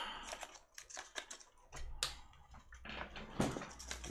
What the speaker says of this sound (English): noisy keyboard here.